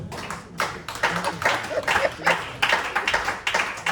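A church congregation applauds in praise of Jesus Christ, with many hands clapping in loud, rhythmic bursts close by.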